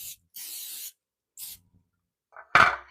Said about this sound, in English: you're going to want to make sure you spray them down really well so that they don't get stuck in there.